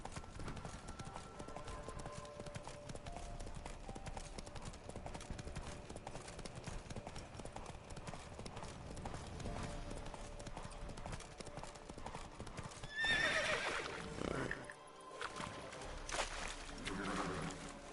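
Steady clip-clop of horse hooves in the video game The Witcher 3 runs throughout over a rumbling ambient background, with a brief whinny near the end.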